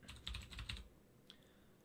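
Quick burst of keyboard typing as a command is entered into a program's command window on a computer, a rapid cluster of soft clicks followed by a single faint tap, quiet and close.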